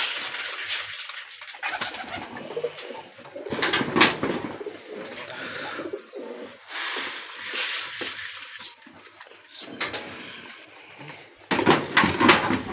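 Several pigeons on a rooftop coo in soft, repeated bursts after being fed and watered, with a few clinks of dishes nearby; no one talks.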